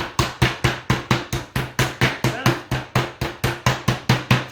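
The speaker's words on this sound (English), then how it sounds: "So I have a meat hammer here." A meat hammer beating out pork into a flat sheet for a roulade: a fast, steady run of about twenty loud, sharp thuds, close and evenly spaced, with no talk.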